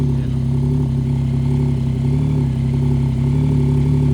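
A Yamaha XSR900 GP motorcycle engine with its stock exhaust pipe runs at a steady idle, a loud, close, low throbbing drone that holds even for the whole span with a faint voice over it.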